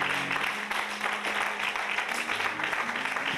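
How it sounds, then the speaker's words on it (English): An audience applauds at a speaking event, a dense, sustained clapping that carries on steadily throughout with a faint hum beneath it and no talk over it. "One more time, put your hands together."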